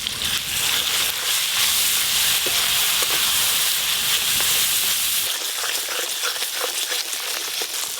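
Spice paste with chopped tomato, turmeric and salt fries in fish oil in a pan, a loud, steady sizzle and hiss continuing without break and without talk.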